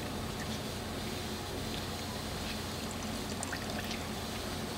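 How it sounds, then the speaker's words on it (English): About 1300 millilitres of water is poured into a hydrogen test cell, a quiet, steady trickling pour that runs evenly for nearly five seconds. "Adding water to our cell."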